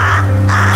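A bird caws loudly and close, two harsh drawn-out croaks in quick succession with nothing else heard.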